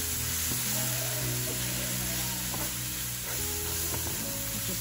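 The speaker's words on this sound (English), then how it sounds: "Just keep stirring it around" A mushroom and artichoke stuffing filling sizzles in a pan on high heat, a continuous dense crackle with occasional stirring scrapes and clicks from a utensil.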